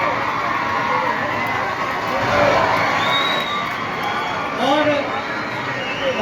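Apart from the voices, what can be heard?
audience applauding and cheering guests arriving on stage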